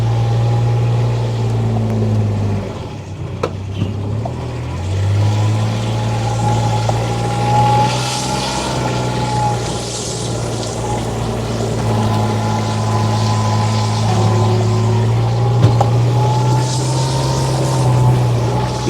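A 2017 Kubota RTV-X900 utility side-by-side with hydraulic power steering, driving in full drive, gives a steady low engine drone with a humming whine, constant and fairly loud throughout, with no talk.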